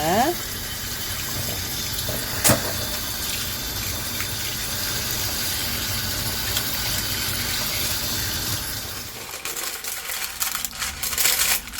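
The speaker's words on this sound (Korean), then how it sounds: "하얀 막을 벗긴 달걀 껍질을 이렇게 흐르는 물에 다시 한번 깨끗이 씻어줍니다" Eggshells are rinsed under a running kitchen tap, giving a steady close gush of water with one brief clink early on. The flow tapers and turns more uneven toward the end.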